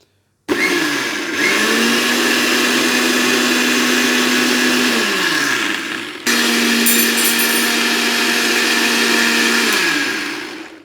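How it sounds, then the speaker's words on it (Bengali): A kitchen blender mixes milk powder for homemade condensed milk. The motor whirs loudly, cuts out briefly partway through, then starts again and runs strongly to the end. "আমি আমার ব্লেন্ডার আবার অন করে দিব"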